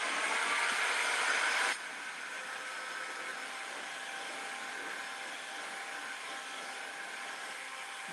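Heat gun blowing steadily while heating wood trim, a close, continuous airy whoosh that drops slightly in level after the first couple of seconds and holds alone.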